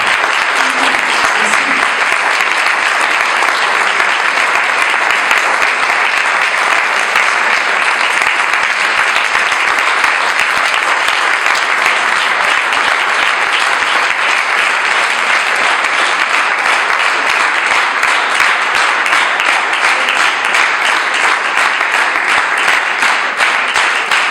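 A church congregation breaks into sustained, dense applause, loud and even from start to finish.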